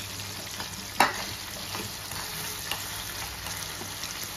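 Food sautéing in oil in a pan, a moderate continuous sizzle with a sharp utensil clack near the start and faint stirring scrapes.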